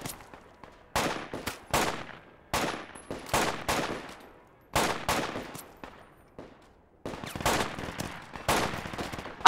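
Bursts of close, loud gunfire in the military shooter Project Reality, short rapid volleys and single cracks separated by brief gaps, with reverberant tails and no talking.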